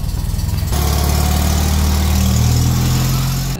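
A 1973 Polish Fiat 126p engine idles with a steady low throb, then swells louder and fuller as the car rolls out of a garage, running close and continuous with no voices.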